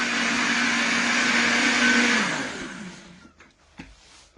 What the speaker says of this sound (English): The longer you're going to blitz that soup, the more silkier and smooth your soup's going to be